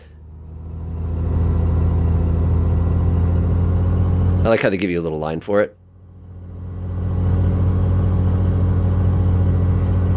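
Steady low drone of the left piston engine on a Black Square Beechcraft B60 Duke rising during a run-up toward about 1,800 RPM, briefly dipping while someone talks, then resuming its constant rumble.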